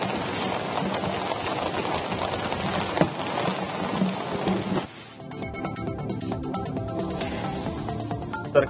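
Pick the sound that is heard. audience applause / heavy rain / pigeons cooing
heavy rain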